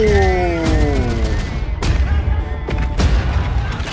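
Battlefield 1 gameplay trailer combat: heavy artillery booms and gunfire cracks rumble through, with a voice speaking over the opening moments.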